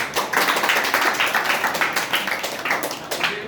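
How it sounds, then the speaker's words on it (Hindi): Children in a class on Guru Purnima clap for themselves, a lively burst of many hands clapping together in a room, brisk and continuous throughout. "और एक बार अपने लिए ताली बजा दीजिए दिल खोल करके"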